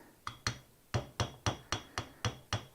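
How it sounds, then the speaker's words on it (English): A rubber hammer taps a part on a 1974 Honda CL125S motorcycle during a teardown, giving eight or so dull, evenly spaced knocks up close with no talk. "I'm just tapping it with my rubber hammer just to see if it moves."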